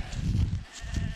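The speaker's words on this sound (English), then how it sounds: "Oh, these sheep are going to jump this." Sheep bleat across a big open field with hedges, a low, wavering flock sound with a few calls overlapping. They are heard against outdoor background noise.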